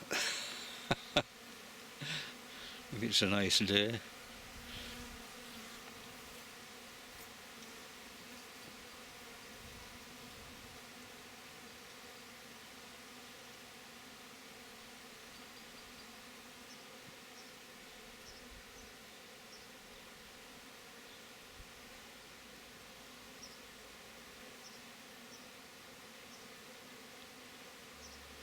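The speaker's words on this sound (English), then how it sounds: "there's lots of bees sitting about on the foliage and all over the hedge" A steady, faint drone of many honeybees around a hive in May hums throughout, with a few louder clicks and knocks near the start and a brief voice early on.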